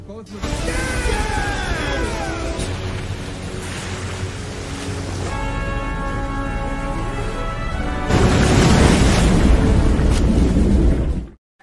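Submarine at sea in the film Torpedo, with a loud rumbling engine and surging water mixed with tonal film score, the sound swelling into a heavier roar near the end before cutting off.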